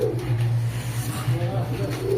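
Soft, repeated cooing from a pair of pigeons in courtship, including a teddy pigeon, steady and close over a low continuous hum, with no clear talk.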